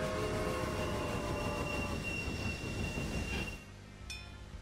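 Train in the Railway Empire railway game running along the track, a loud, close rumble of wheels with tonal squealing and hum that fades toward the end, followed by a brief whistle-like tone.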